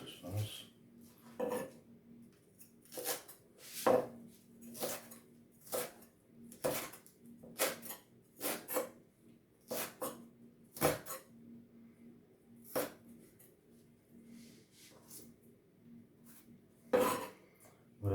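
A knife slices a leek for a vegetable consommé, striking a cutting board in sharp, irregular chops spaced about a second apart, fairly close and clear against a quiet background.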